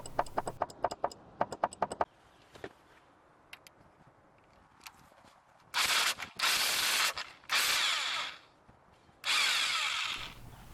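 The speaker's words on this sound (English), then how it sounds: "I'm removing the harmonic balancer, beginning with the 4 6mm hex bolts." Hex bolts come off the harmonic balancer of a Suzuki Forenza, first with rapid ratchet clicks, then with four loud bursts from a power tool whirring at close range, separated by short pauses.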